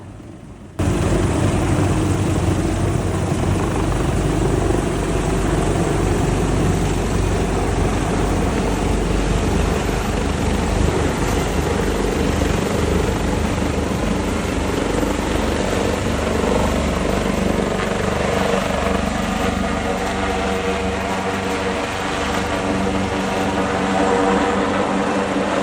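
A helicopter called to an accident near a ship produces a loud, steady rotor-and-engine roar that starts abruptly and then holds close and constant for about twenty-five seconds, with no voices.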